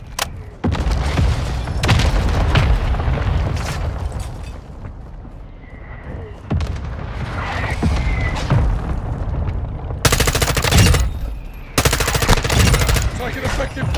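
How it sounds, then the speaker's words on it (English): Mortar strike explosions hit in the MW2 DMZ shooter game, a series of heavy booms and sharp blasts mixed with rapid gunfire, loud and close, with voices in between. "Mortar strike inbound."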